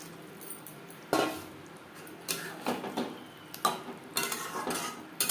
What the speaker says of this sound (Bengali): মশলার সাথে ভেন্ডি আরও 3-4 মিনিট নাড়াচাড়া করে দেব।